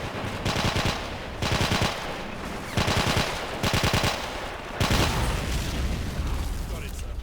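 Rapid machine gun bursts in the Men of War: Assault Squad 2 online battle, loud repeated volleys about a second apart with short gaps between them, mixed with battle noise.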